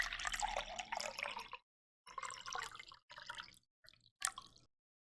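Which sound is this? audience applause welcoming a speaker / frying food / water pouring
water pouring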